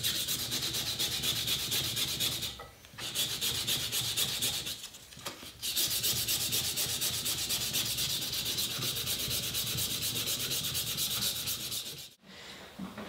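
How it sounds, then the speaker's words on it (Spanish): Steady, dry rubbing of sandpaper on a wooden knife handle, a continuous scratchy rasp with a few short pauses, close and fairly loud. "una vez que tenemos el mango bien lijado, bien limpio y bien seco"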